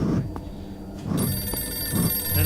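A telephone rings under room noise, with a bright electronic ring starting partway through and holding steady while low rumbles and bumps continue beneath it.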